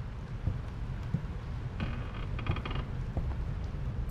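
A slow, drawn-out creaking, like an old door or wooden structure groaning, with a few intermittent squeaky bursts against a low rumbling background, in the video game Quiet Basement.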